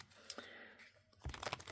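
Tarot cards shuffled by hand, giving a few soft papery rustles and then a louder burst of rapid riffling clicks and flutters near the end, close and with no one talking.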